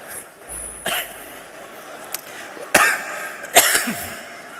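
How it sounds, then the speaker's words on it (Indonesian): A few sharp coughs break through a quiet room, three or four separate bursts spaced a second or so apart, fairly close. "Itu batuk."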